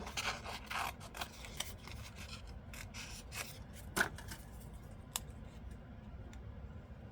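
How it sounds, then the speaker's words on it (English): Scissors fussy-cut paper close up, making quiet, rapid snips and crisp rustles in irregular bursts over a soft, steady background. "And then I could fussy cut that and make a little tab."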